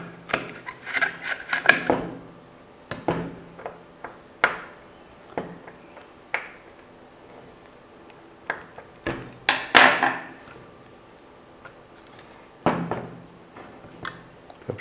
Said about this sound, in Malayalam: അപ്പോൾ ഞാൻ ഈ ക്യാമറ അഴിക്കുകയാണ്.